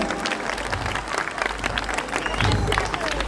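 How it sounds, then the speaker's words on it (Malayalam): An audience applauds loudly to welcome a young boy onto the stage, a sustained crowd clapping with some cheering. A voice speaks faintly underneath and the applause swells near the end. "മോന് നല്ലൊരു കൈയടി കൊടുത്തിക്കൊണ്ട് ക്ഷണിക്കുകയാണ്"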